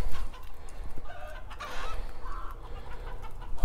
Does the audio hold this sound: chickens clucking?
yes